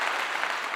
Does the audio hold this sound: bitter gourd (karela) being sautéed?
no